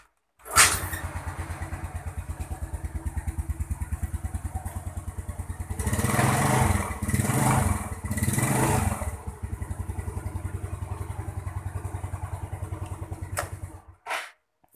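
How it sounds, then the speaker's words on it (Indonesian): A Yamaha Mio Sporty scooter with weak ignition is kick-started and settles into a steady, close, putting idle. The engine revs up twice in the middle, drops back to idle, then cuts off near the end. "Kita engkol."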